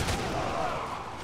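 Musket volleys from infantry units in the Empire strategy game, a dense rolling crackle of shots lasting about a second, loud and without talk.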